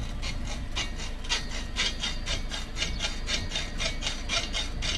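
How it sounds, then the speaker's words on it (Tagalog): A handsaw cuts through wood with steady, rhythmic back-and-forth strokes, close and continuous, with no voices. "Marunong ka maglagari."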